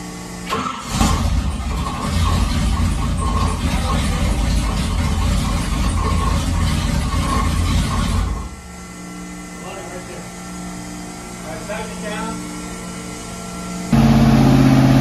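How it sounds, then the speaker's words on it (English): A Big Block 460 engine running on a dyno roars loud and steady for several seconds, then drops back to a lower rumble, with voices talking over it. "I'm gonna show you some dyno footage that'll show you the numbers, the horsepower and torque that we got"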